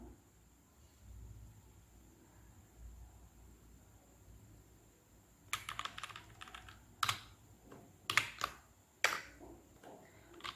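Hindi Kruti Dev typing practice on a computer keyboard: after a quiet start, bursts of close keystrokes clatter in quick irregular runs with short pauses between, with no voice over them.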